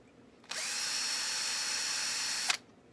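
A power drill bores into the headstock of a Gibson Les Paul guitar being rebuilt, a steady high-pitched whine starting abruptly, holding level for about two seconds, then cutting off sharply, with no talk over it.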